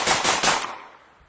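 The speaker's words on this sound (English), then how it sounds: "Russians open fire at the trenches, and bullets fly over the heads of Ukrainian soldiers." Russian troops fire at Ukrainian trenches in a short, close burst of automatic gunfire, three or four sharp rapid cracks that quickly fade.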